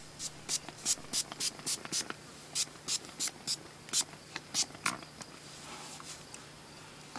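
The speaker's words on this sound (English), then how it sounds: "so I'm gonna go ahead, spray my bow down" Short bursts of scent spray hissing onto a hunting bow in a quick series, about a dozen pumps with brief pauses, close by and otherwise quiet.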